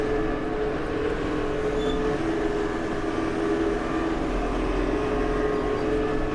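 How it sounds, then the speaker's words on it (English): A steady low tractor engine drone rumbles continuously, even and unchanging, as the tractor pulls a Ram 2500 HEMI pickup truck nearby. "the tractor doesn't seem to struggle at all with it right now"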